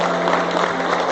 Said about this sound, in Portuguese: Vamos aplaudir o Senhor agora